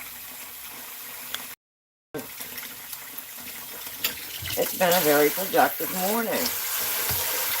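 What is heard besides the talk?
water running from a kitchen tap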